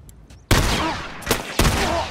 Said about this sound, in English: A fucking shotgun.